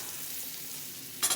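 Ginger sautés in a pan for crab cooked in coconut milk, heard as a brief even hiss of frying that ends in a louder sudden sizzle burst.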